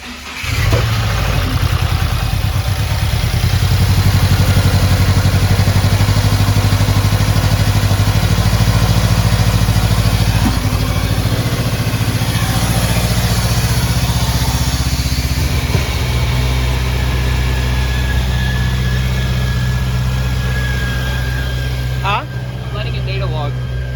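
Car engine after re-gapped spark plugs and swapped coil packs, cranking and catching near the start, then idling steadily and loudly at close range for the rest of the stretch with a low, slightly uneven hum.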